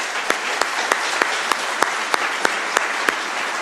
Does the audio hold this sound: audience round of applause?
yes